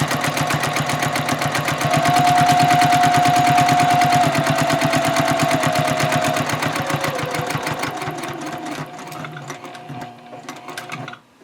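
A sewing machine runs in a steady rapid stitching rhythm as it sews straight across the fabric of a messenger bag, loud and close with no talk, then slows and trails off near the end.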